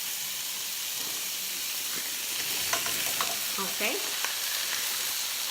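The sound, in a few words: Brussels sprouts hissing and sizzling as added to the pan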